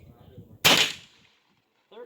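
One sharp, loud rifle shot from Winchester Super X copper-washed .22 LR rounds cracks close by, then fades quickly; a brief murmur of talk comes before it and a short voice follows.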